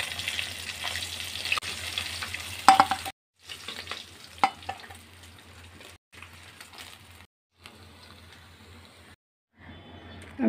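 Katla fish pieces fry in mustard oil in a wok, a faint, patchy sizzle with a few clinks and handling knocks, cut by several short silent gaps.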